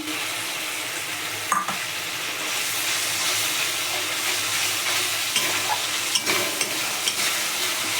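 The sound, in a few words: sautéing cashew and poppy seed paste with spices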